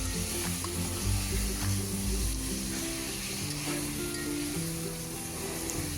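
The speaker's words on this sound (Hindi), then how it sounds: "तो अब हम पालक को मटन के साथ मिक्स कर लेंगे।" Spinach and mutton for Kashmiri-style palak gosht sizzle steadily in a pan while being stirred, a continuous close frying hiss with faint tonal sounds underneath.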